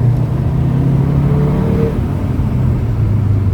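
A 2023 VW Tiguan R compact SUV accelerating under light throttle, its engine a steady close rumble with a brief rising whine midway, continuous and fairly loud throughout.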